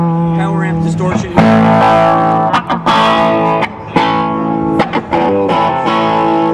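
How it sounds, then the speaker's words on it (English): A Jet City tube guitar amplifier head, without reverb, is driven into power amp distortion, giving loud, thick distorted guitar chords with a few short breaks between phrases. "so you can get that nice power amp distortion."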